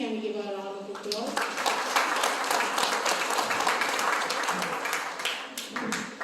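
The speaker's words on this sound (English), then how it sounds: "Please can we give her a round of applause?" At the Clairwood Tamil Institute awards, an audience claps for an award recipient after a voice speaks, the applause building into a steady, fairly loud patter that runs to the end.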